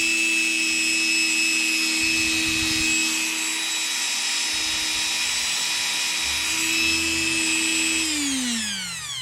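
Upgraded Dremel rotary tool runs alone with a steady high-pitched whine, holding constant and then winding down as it is switched off near the end.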